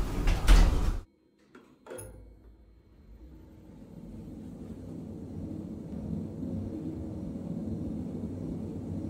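Elevator doors in a Roblox test tower (Platinum LIFTKOS/PolarV2 lift) slide shut in a loud, brief rush at the start, followed by a short clunk and then a steady, low mechanical hum as the car moves.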